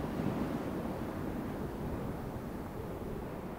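Steady, rushing wind blows hard across open Arctic tundra, a continuous broad roar with gusty buffeting and no voices.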